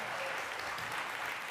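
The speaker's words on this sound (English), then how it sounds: "Those are French claps." A small group claps on a podcast, a quiet, even patter of hands that holds steady without gaps, with faint talk underneath.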